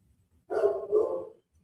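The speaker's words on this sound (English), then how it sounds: "dog is going crazy." A dog gives a short double bark, two loud close woofs in quick succession, with quiet room sound before and after.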